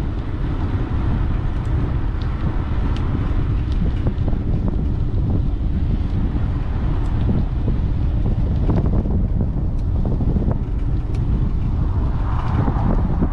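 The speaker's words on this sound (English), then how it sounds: "Bit of a north wind," Steady north wind buffets the microphone while biking on a road in the Florida Keys, a loud continuous roar of gusts with occasional faint clicks and road noise, no talking.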